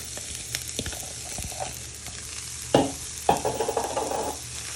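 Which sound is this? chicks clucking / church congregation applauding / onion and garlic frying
onion and garlic frying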